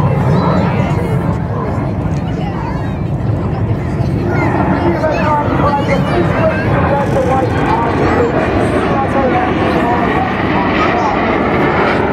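Jet aircraft flying past at a seaside air show in Southport, a loud sustained roar filling the whole stretch under continuous commentary and crowd babble.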